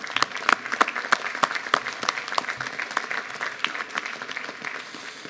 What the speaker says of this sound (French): on peut t'applaudir déjà